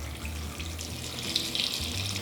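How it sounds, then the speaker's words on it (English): Filtered tap water runs into a cooking pot in a close, steady faucet stream with a bright hissing splash, continuous and unbroken, no voices. "We're just gonna fill up the pot."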